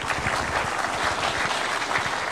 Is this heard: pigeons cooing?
no